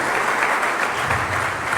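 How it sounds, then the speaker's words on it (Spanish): Audience in a Sunday morning church service applauds, a short burst of dense, even clapping from many hands, loud and close, with no voices over it. "Un aplauso para ellos"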